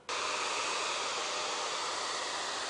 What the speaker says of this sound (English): If I dry that with a hairdryer